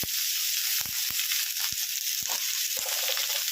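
Capsicum sizzles in a frying pan with onion fried earlier, over a gas flame turned low, for restaurant-style chilli chicken. The sizzle is steady and close, broken by a few clicks and scrapes from stirring.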